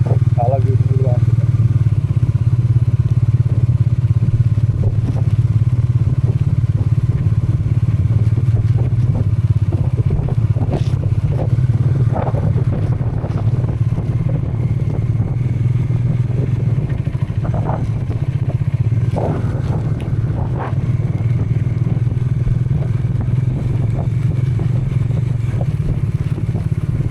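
A motorcycle rides on the road toward Soochipara waterfalls in Wayanad, its engine a steady low drone throughout with wind buffeting, while a rider talks over it.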